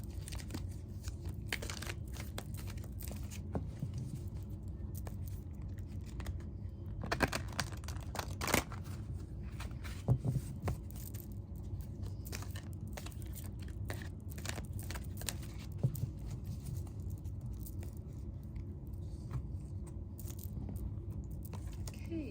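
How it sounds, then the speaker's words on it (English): A deck of fairy-themed tarot cards is shuffled by hand, giving a soft, steady run of papery riffles and taps with a few sharper snaps, quiet and close with no talking. "So let's give this deck a good shuffle."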